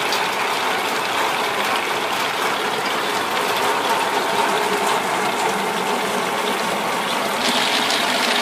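An açaí processing machine in Brazil's Pará state churns berries with added water, giving a steady, continuous mechanical whir with a ratcheting, sloshing texture that stays loud and even throughout, with no voices.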